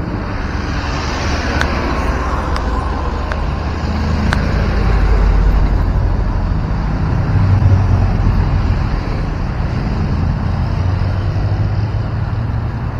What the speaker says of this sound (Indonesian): Ya lumayan cukup rame ya kendaraan di sini, di depan gerbang masuk ini.